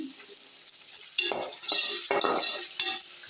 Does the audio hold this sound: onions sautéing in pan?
yes